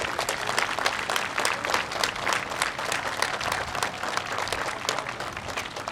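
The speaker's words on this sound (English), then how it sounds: "Big round of applause for C3." Applause at a school moving-on ceremony, a crowd clapping in a brisk, crackling patter of distinct individual claps, moderately loud and steady throughout.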